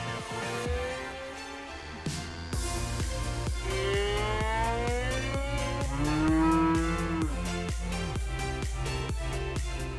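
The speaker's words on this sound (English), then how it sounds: "It turns out that you need only a violin to have a dialogue with a cow." A cow moos in long, sliding calls answering a violin's melodic line, the two trading phrases over a steady rhythmic backing track; loud and close, with no talking.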